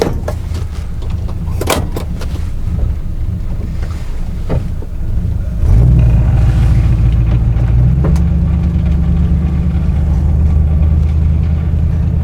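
A 1958 Plymouth Belvedere engine rumbles steadily as the car drives off on a hot summer day, a loud low drone under heavy wind buffeting that deepens and grows stronger midway.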